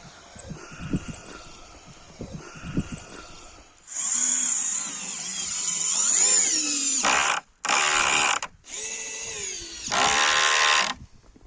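A power drill drives screws into a heavy farm gate, whirring loudly in long sustained runs with short pauses between bursts, close by, after a few seconds of quieter outdoor background.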